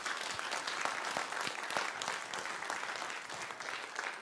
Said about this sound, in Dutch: Ik wil een heel groot applaus voor de lijsttrekkers van de partijen